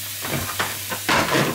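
Beef or other meat hitting a hot Ikea frying pan, giving a loud hissing sizzle that comes in bursts, with a strong, sustained surge near the end, heard close up with no talking.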